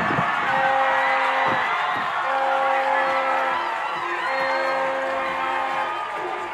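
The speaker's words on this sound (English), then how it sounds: "look at this crowd" A crowd at a men's soccer championship cheers and whoops right after a goal, a dense, loud, sustained roar with horns blaring through it.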